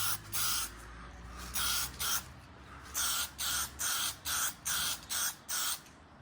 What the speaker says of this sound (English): so I'm just gonna spray in here